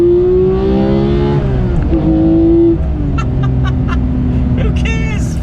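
A manual Porsche 991 GT3 engine revs up and holds a high note, then drops and settles; a voice speaks over it partway through.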